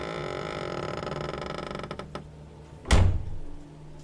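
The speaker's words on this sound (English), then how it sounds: "The door creaks shut behind you." A door swings shut in an old abandoned hospital building. A long, steady tonal creak drags on for a few seconds, then a single solid thunk lands near the end.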